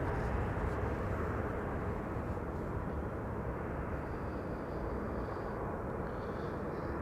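A continuous broadband roar from an Airbus A340-600 airliner taking off and climbing away at Amsterdam Schiphol Airport, heard at a distance as a steady rumble with no talking.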